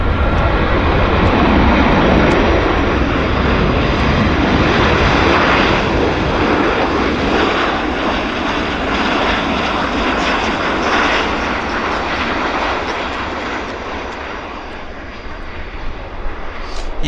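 An airplane arrives at Vancouver airport, its engines giving a loud, broad roar that builds early and then slowly fades. The sound stays continuous for about seventeen seconds, with no voices over it.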